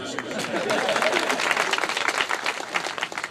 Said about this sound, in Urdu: اب تالی بجا لیں